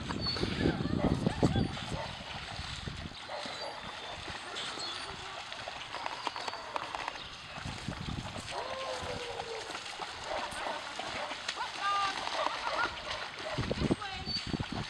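A Chinook puppy runs through a flooded back yard, water splashing and sloshing around it as it yips and whimpers, with people talking throughout.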